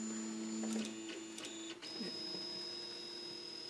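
A WAZER desktop waterjet cutter's motors whir steadily as the nozzle moves above the acrylic sheet on the cut bed, a sustained mechanical hum with shifting tonal whines and a few soft clicks, close and moderately loud.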